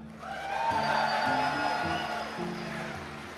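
Crowd clapping for the Mage class, a dense wash of applause that swells early and then eases slightly, with faint voices underneath.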